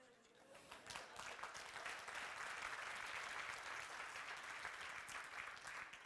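Sustained applause from an audience of many hands clapping, steady and dense throughout, with a faint swell near the start and some voices mixed in.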